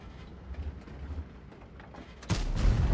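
Quiet low rumble, then a sudden loud tank cannon blast in World of Tanks near the end, booming and noisy with a trailing roar.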